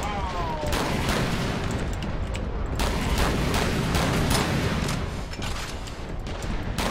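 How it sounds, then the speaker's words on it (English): Rapid bursts of gunfire from the Warhammer 40k: Eternal Crusade shooter game crackle in dense, repeated volleys, loud and close, with voices mixed in. "I'm shooting him with my snugger!"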